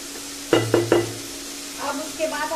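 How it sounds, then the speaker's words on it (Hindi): Chopped eggplant dropped into hot spiced masala in a pan over high heat, with a few sharp clinks of a spoon against the pan followed by soft sizzling and stirring, close up and without talking. "अब इसमें हम लोग कटे हुए बैंगन को डालेंगे और उसे भी 1-2 मिनट फ्राई कर लेंगे"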